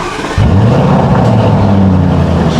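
A Lamborghini Urus engine in Strada drive mode revs up loudly and close after a brief quiet start, holding a strong throaty drone that rises and settles.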